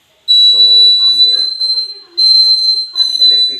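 An electric circuit buzzer-wire game at a science model competition gives off a shrill, steady buzzer tone in several bursts, loud and close, while a person talks over it.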